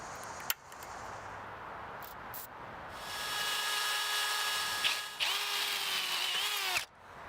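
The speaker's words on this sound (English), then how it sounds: "I center punched the hole, then step drilled up to 1/4 inch to fit the hardware I was going to use" A power drill whines up to speed and holds a steady high pitch as a step drill bit bites through metal, with a couple of clicks before it stops.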